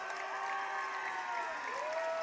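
A crowd at a high school football game keeps up a steady roar of cheering and clapping, with sustained horn-like tones held over the noise.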